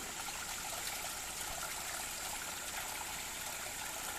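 Rocky Mtn Run, a small rocky stream in Shenandoah National Park, trickles and babbles as a steady, even wash of moving water, heard alone with no voices.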